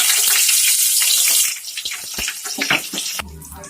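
Nigella seeds and slit green chilies sizzle and crackle in hot oil for a fish curry, a loud hiss at first that eases into softer, scattered pops near the mic.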